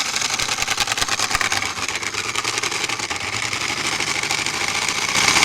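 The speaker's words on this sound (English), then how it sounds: "Sounds like a cool engine" An airsoft robot's motor, driven through a stripped small pinion gear, runs like an engine: a loud, close, rapid rattling drone that pulses unevenly, then steadies and swells slightly toward the end.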